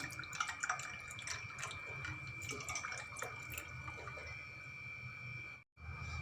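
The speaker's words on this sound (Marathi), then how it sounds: "त्यामध्ये थंड पाणी टाकायचं आहे" Cold water pouring into a glass of mint lemonade, a faint, continuous trickling and splashing stream with scattered drips, briefly cutting out near the end.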